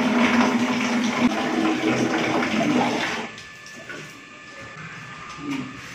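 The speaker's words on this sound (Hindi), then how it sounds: "यहाँ पे अभी गंदा पानी निकल रहा है और यहाँ पे कचरा भी निकला है।" Dirty water gushing out of a bathroom drain pipe during pressure pump cleaning of a clogged toilet line, a loud rushing flow that cuts off after three seconds, leaving faint dripping and trickling.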